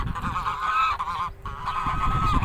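Geese and their goslings honk loudly and repeatedly at close range as the group heads toward water, a continuous chorus of nasal calls with a brief dip in the middle.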